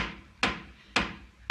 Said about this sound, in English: Somebody's at the door.